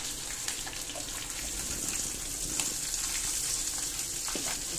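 Onion paste sizzles and fries in hot ghee for a Punjabi restaurant-style red gravy, a steady crackling hiss with faint stirring, close and continuous without talk.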